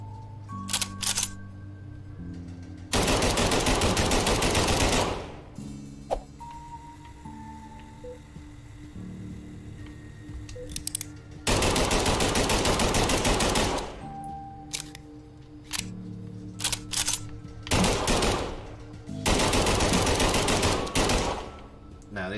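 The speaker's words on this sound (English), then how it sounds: "the gunfire is supposed to startle the spiders" Machine gun fire in the video game Kill It With Fire comes in three long, loud, sustained automatic bursts, with quieter game sounds and clicks between them.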